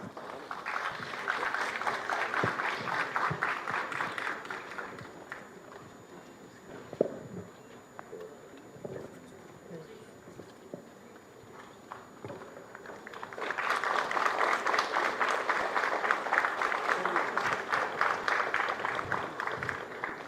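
An audience at a cyber security hackathon in Telangana claps and cheers for partner teams. Dense, steady applause fills the first few seconds, drops to a quieter murmur, then swells again strongly for the final stretch.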